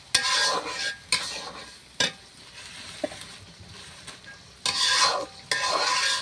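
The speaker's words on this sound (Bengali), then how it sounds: "এইটা আমি কিছু সময় নাড়াচাড়া করে নেব" Spice paste for mustard hilsa stirred in a pan with a utensil, giving several separate bursts of scraping and sizzling, with the loudest near the start and end and quieter gaps between them.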